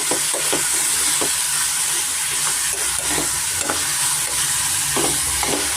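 Vegetables fry in hot oil with a loud, constant sizzle, broken by repeated scraping taps of a spoon stirring them around the pan.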